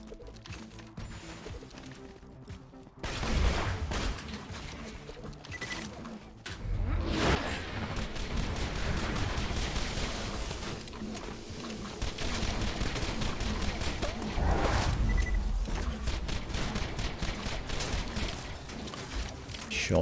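Video game gunfire from a Maya Blurred Trickster build wielding a Pimpernel rifle against Scorch bosses: dense, loud bursts of shots and impacts that start after a quiet moment and continue almost nonstop in clustered volleys.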